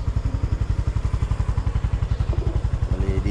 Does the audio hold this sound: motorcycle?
yes